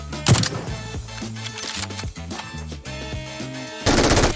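PUBG game gunfire: a sharp shot burst at the start followed by rapid repeated shots in quick rhythmic strings, ending in a loud dense burst, all close and prominent.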